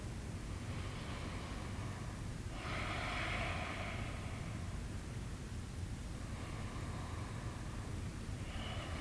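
Slow, deep breaths during a beginner yoga session, each long inhale or exhale a soft airy rush, faint and close over a low background hiss, with two or three full breaths spaced a few seconds apart.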